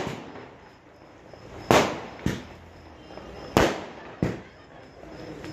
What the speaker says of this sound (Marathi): फटाक्यांची आतिषबाजी पण चालू आहे मित्रांनो